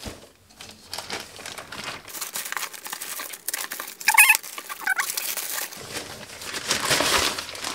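A package is opened and a plastic bag pulled out, giving loud crinkling and crumpling plastic rustles with brief tearing bursts, close and continuous, with no talking.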